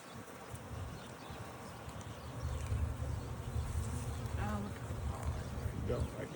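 Honey bees drone in a steady, close buzz around an open hive during an inspection, growing louder partway through, with a faint voice in the background.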